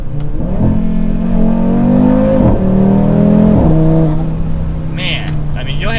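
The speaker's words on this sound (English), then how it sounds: "we just did a perfect launch without even spinning the tires" A 2024 Audi RS3 launching hard, its engine revving up through rising pitch sweeps with quick breaks between gears, loud and close, with people talking in the cabin over it.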